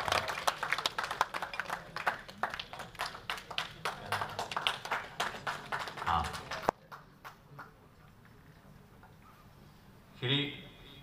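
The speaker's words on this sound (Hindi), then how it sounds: "एक बार तालियों के साथ इनका स्वागत करें।" Applause at an award event as a guest is welcomed on stage, a steady run of clapping for several seconds that stops abruptly, followed by quieter room sound and a brief noise near the end.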